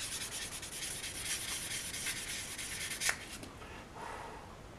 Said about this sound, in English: do my polishing with my very, very high grit sanding pad